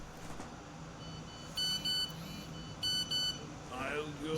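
An electronic notification tone from a phone in a video game, heard as two pairs of short, bright beeps spaced about a second apart, fairly quiet beneath a low background hum.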